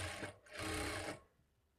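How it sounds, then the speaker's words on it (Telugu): A sewing machine stitching a lined blouse whirs in two quick bursts with a short pause between them, then falls quiet. "ఈ స్టిచ్ దగ్గర నుంచి ఒక పాయింట్ యువతలకి స్టిచ్ చేసుకోవాలి"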